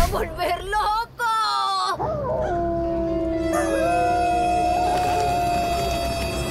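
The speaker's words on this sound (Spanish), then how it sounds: "Y el perro de la abuela" A dog howls loudly in long, rising and wavering drawn-out tones, with crowd babble around it and no break in the sound.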